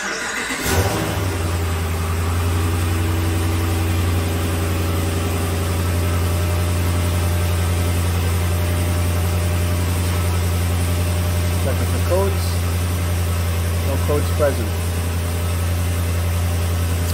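A 2011 Ram 2500HD truck, whose transmission is stuck in limp mode, cranks and fires at the start, then settles into a steady, loud diesel-like idle drone that runs throughout, with a few faint clicks in the background.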